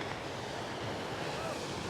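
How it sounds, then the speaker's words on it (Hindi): High ocean waves surging against the shore at Dwarka, a continuous broad roar of surf mixed with wind noise, steady and fairly loud with no distinct individual crashes. "समुद्र में काफ़ी ऊंची ऊंची लहरें उठ रही हैं और देखिए पानी कितने भयंकर तरीके से यहाँ पे आ रहा है"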